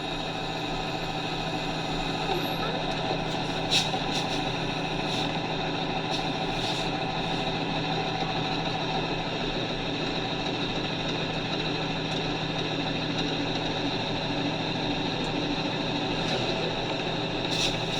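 A truck engine idles steadily at close range during an air brake test at under 5 mph, a constant low rumble with mechanical hum that barely changes throughout.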